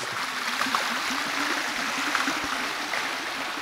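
Continuous rushing water from the third waterfall along a jungle trek in Igcabugao, Iloilo, a steady broadband roar heard close by with no pauses and no voices.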